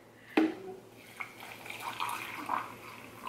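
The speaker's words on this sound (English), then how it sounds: "I'm gonna fill it right to about that logo with hot water" Hot water pours into a tea steeper holding loose tea, opening with a sharp clink and then a faint, soft trickle and splash in a quiet room.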